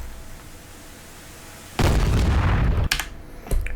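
A loud AGM-114K Hellfire missile blast from an AH-64D Apache in a DCS Afghanistan attack bursts in after quiet, a sustained broadband boom rolling for about a second, then a sharp cutoff and two shorter follow-up bangs.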